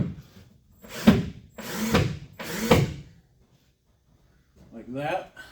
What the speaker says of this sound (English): we'll put a few screws in the wall